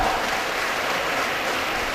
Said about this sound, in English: Let us give a big applause, clap.